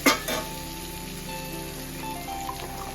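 Ginger garlic paste fries in hot oil for gongura pachadi, giving a steady, even sizzle that crackles close and fairly loud after a brief louder burst at the start.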